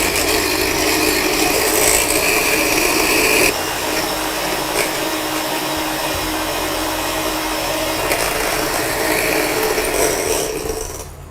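An electric hand mixer whips cream with a loud, continuous motor whine that shifts slightly in pitch as the speed changes, then cuts off near the end; no talking over it.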